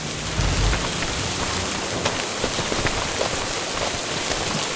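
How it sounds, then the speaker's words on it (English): Steady rain falls in a farming video game, a dense continuous hiss of drops on surfaces with scattered louder patters, even and fairly loud throughout, with no talk. "It's still raining."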